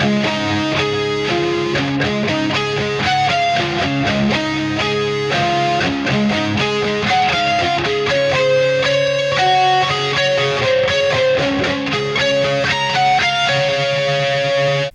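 Electric guitar natural harmonics ringing out with delay in the intro of a song, a dense shimmer of bell-like repeating notes layered over a distorted guitar tone, loud and continuous with no voices.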